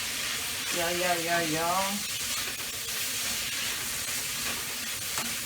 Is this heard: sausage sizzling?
yes